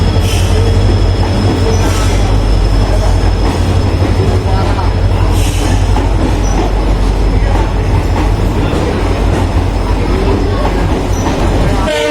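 The Uttaranchal Sampark Kranti Express at a railway station, a loud, continuous heavy rumble of rail cars with metallic wheel squeal and clatter running steadily throughout.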